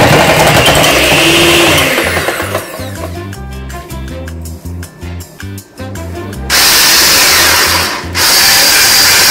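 A mixer whirs loudly as it blends cheese with 80 to 100 grams of cream into a smoother mixture, running in two steady buzzing stretches with a quieter musical pause between them.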